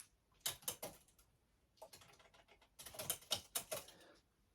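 An old mechanical typewriter being handled gives off bursts of sharp clacks and rattling mechanical clicks in uneven clusters, close and fairly quiet, with no talking.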